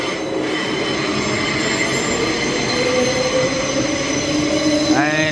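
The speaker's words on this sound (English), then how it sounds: "A couple of trains are heading out right now towards the city." Several trains pull out of Park Road station in Brisbane, heading toward the city, with a steady rolling rumble and metallic wheel squeal rising near the end, close and continuous.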